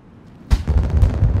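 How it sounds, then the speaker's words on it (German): A single sharp gunshot in the stealth video game Dishonored, a loud sudden blast after near silence, followed by a rumbling decaying tail. "Ich wollte ihm doch nur ins Bein schießen"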